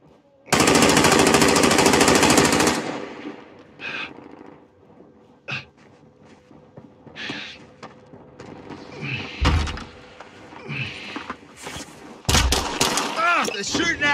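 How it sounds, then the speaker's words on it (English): Gunfire in the Call of Duty Warzone video game: a loud sustained burst, then scattered sharp shots and impacts at varying distances, mixed with other game sounds and some voice chatter. "They're shooting at me."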